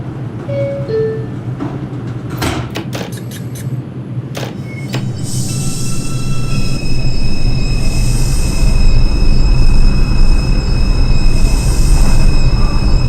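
Simulated R142 subway train on the New York 4 line in OpenBVE, a steady loud rumble of running with rising wheel-squeal whine and a few sharp clicks early on, growing louder and more continuous toward the end.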